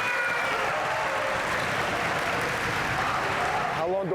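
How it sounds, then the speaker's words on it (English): A crowd gives dense, continuous applause welcoming speaker Greg Brown, loud and even throughout, with voices calling out over the clapping at the start and end. "if I can get a raucous round of applause for Mr."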